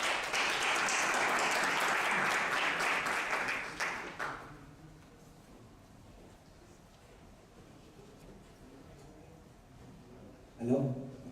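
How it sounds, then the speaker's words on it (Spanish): Seminar audience applause at a climate change and regional development event, loud sustained clapping that fades out after about four seconds, leaving quiet room tone, with a brief bump of noise near the end. "Y hoy te doy un aplauso a todos"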